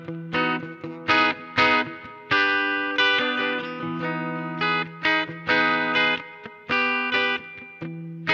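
Clean electric guitar on an Ibanez SC420's bridge humbucker playing a rhythmic pattern of chords and single notes, bright and close, with short strummed bursts and ringing sustained notes.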